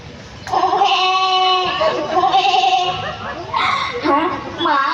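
Goat bleats near and loud in a few drawn-out, wavering calls, mixed with a person talking over them at a crowded reading festival.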